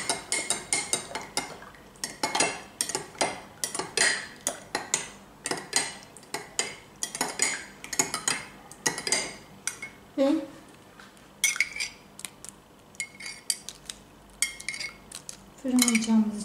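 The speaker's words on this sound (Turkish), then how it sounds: "karıştırıyoruz." A spoon stirring tomato paste into hot water in a bowl, repeated rhythmic metallic clinks and scrapes against the dish, close and fairly loud, with brief pauses between strokes.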